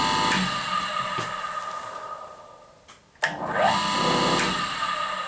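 A Raimondi Exploit 120 tile cutter, an Italian machine with a 1200 mm cutting length, runs with a soft, steady motor whir. It dips briefly near the middle, then picks back up and continues evenly.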